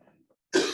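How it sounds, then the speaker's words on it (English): One sharp, close cough bursts out after a moment of near silence. "Got a cough, mate."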